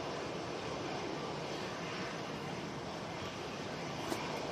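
A Ryanair airliner landing at a windy Manchester Airport gives a steady broadband roar of engines and gusting air, distant and even throughout, with no talking.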